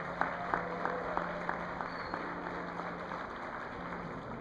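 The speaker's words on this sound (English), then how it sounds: "And I invite the crowd to give them a round of applause." A school graduation audience claps for students at Caribbean Union College Secondary School, a thin, moderate round of applause with a few distinct claps standing out over a steady hum in the hall.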